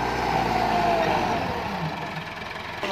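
A 1992 Massey Ferguson 375 tractor with a Perkins diesel engine runs nearby, a steady low rumble that eases slightly in loudness over a few seconds.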